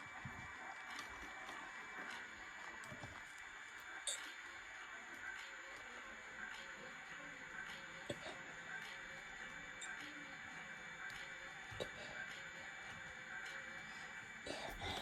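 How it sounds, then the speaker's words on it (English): A steady, regular mechanical ticking and sweeping rhythm of train window wipers repeats over a constant hum of machinery, fairly faint and even throughout. "window wipers,"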